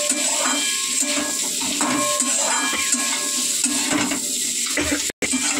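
Curry with lentil dumplings gets stirred in a pan, with repeated scraping and clinking of a utensil against metal over a soft sizzle, close and continuous.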